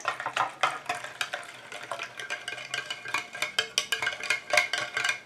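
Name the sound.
stirring oil and water phases of homemade after-sun plum lotion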